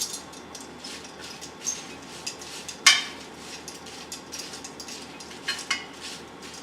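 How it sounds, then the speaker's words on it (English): Salted string beans being stirred in a dish give faint scraping and clinking of utensil against cookware, with one sharper knock midway and light scattered taps throughout. "I'm going to hit them with just salt, like I said. And I'm going to mix that up a little bit."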